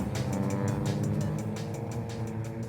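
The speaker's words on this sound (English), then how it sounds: "Lights out, we're racing down towards turn one." Race cars accelerating together off the grid at a Polo Cup race start, a dense layered engine roar with rhythmic revving pulses, loud and close, no talking.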